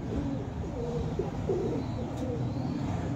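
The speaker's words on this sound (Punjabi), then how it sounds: "ਇਹ ਵੱਡਾ 90 ਨੰਬਰ ਕਬੂਤਰ" A large racing pigeon coos softly at close range in a loft, with a few low, throaty coos over quiet background hum.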